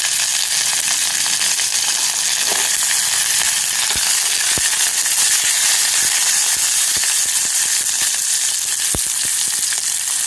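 Onion, dried red chillies and curry leaves fry in hot oil with a loud, continuous sizzle, broken by a few sharp crackles and pops.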